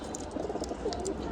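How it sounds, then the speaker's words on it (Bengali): Pigeons in a wooden coop coo in soft, low burbling murmurs, close and faint, with occasional brief chirps over a steady background. "এইখানে মাশাআল্লাহ কিছু কবুতর আছে, খুব সুন্দর সুন্দর কবুতর"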